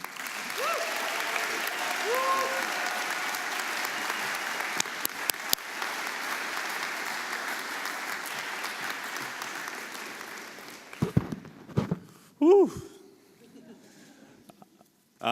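Steady applause from an audience at an alumni awards ceremony welcomes the honoree, a broad sustained clapping that fades out near the end, followed by a brief voice and a few knocks.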